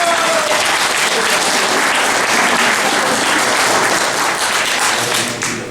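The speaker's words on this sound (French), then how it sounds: "je vais les applaudir." A crowd applauds steadily at a town's annual afternoon snack gathering, during the mayor's speech, with dense continuous clapping that holds for several seconds before slightly tapering.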